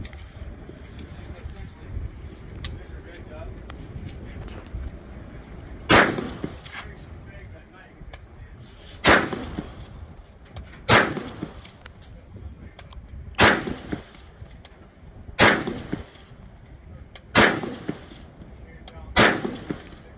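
Springfield Hellion rifle fired at a shooting range, seven sharp, loud single shots at irregular intervals over low background noise, with people talking in between.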